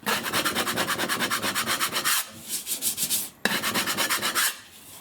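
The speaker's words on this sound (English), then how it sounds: "May need to scrape it as well." A putty knife scrapes a patched drywall dent in rapid, rhythmic back-and-forth strokes. Two bursts of harsh rasping are heard up close, separated by a brief pause, with no talking.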